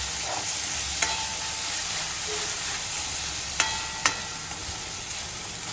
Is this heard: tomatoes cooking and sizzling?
yes